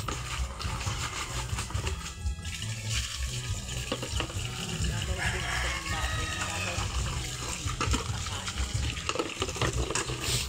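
A container fills with water in a continuous rushing, splashing stream that runs the whole time under background voices talking.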